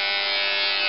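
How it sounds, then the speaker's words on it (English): An electric head shaver runs steadily, a close, loud, constant motorized buzz with no change in pitch and no talking. "So get your shaver, turn it on,"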